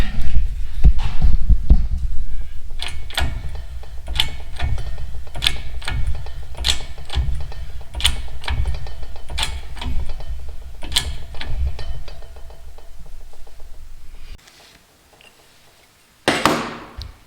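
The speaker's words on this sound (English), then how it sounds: "The old Vevor garage press." A Vevor hydraulic garage press in a workshop gives off a steady run of rhythmic mechanical clicks and ratcheting knocks over a low hum, which stops near the end before a brief closing clatter.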